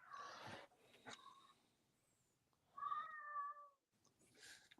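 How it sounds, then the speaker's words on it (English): A house cat meowing indoors, a few separate calls with quiet gaps between them, fairly close but soft. "She's all running around the house, meowing like crazy."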